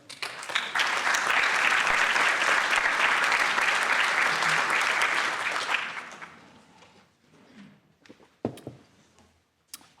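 Sustained applause from a conference audience at a travel tech event, loud and dense for about five seconds, then fading into scattered claps and faint room noise.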